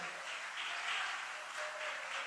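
A church congregation applauds together in a steady, even wash of clapping that sounds somewhat distant and soft, with no voices over it.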